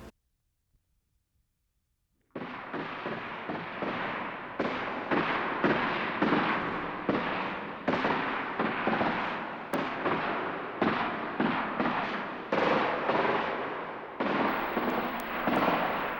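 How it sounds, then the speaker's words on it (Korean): After brief silence, a dense, sustained crackle of rapid police volley gunfire erupts and continues steadily, loud and reverberant, with repeated volleys overlapping. "경찰의 일제 사격으로 경무대 앞은 아수라장이 되었다."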